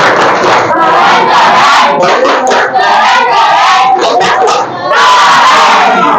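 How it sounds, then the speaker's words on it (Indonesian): A classroom of students performs a loud rhythmic cheer clap, chanting and shouting together with patterned hand claps in close, energetic bursts that fill the room, broken by brief pauses. "Silakan beri tepuk keren buat kalian semuanya"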